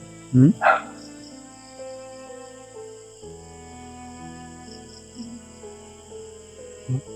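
A pair of quick dog barks rings out near the start, then a steady buzz of crickets fills the background, with one more short yelp at the end.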